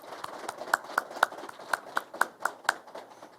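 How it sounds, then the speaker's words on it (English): Applause for the training cadre at a Detroit Police Department graduation in 2021: a thin, sparse run of individual claps in an even rhythm, about a dozen distinct hand strikes, moderately close with no talk over them. "let's give the training cadre a round of applause"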